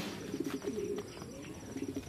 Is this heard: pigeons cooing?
yes